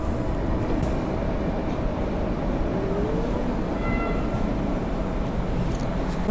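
The TLK Nida passenger train departs Warsaw Śródmieście station, a steady loud rolling rumble of wheels and carriages with a faint squeal partway through and a continuous low roar from start to end.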